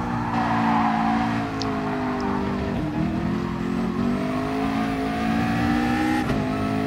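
A car on a race track holds a steady, loud engine drone, with revs dipping and rising as gears are shifted quickly, close and continuous throughout.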